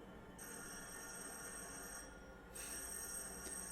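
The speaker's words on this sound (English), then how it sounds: "Pizza delivery. ringing the doorbell." An electric bell rings steadily in two long bursts separated by a brief pause, loud and shrill against a constant background hum.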